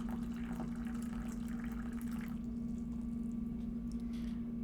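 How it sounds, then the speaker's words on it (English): Water for tea pours steadily into a vessel with a soft, continuous gurgle over a low hum, close by and without talk. "Pouring in my water."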